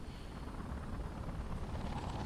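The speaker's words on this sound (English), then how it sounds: "This glider's kind of like whack because it's loud," A glider in a video game that sounds like a helicopter: steady, low rumbling rotor-like drone, faint and continuous and heard alone.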